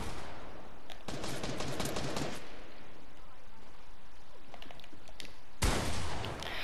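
Shotgun blasts in the video game Fortnite, a burst of sharp shots early on and another loud blast near the end, with scattered game noise and faint voices between.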